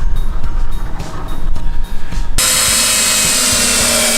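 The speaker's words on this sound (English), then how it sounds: "And pre-drilling all of the holes." A power drill whines loudly and continuously while pre-drilling holes in plywood, preceded by a few seconds of rattling and handling noise.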